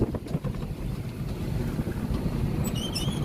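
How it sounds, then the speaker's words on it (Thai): Strong, cool wind buffets the microphone in a loud, continuous roar and rumble, heard outdoors while an Isuzu Hi-Lander 2.5 DDI tows another vehicle, with a faint high whistle near the end. "บรรยากาศลมเย็น ลมแรงนะครับ"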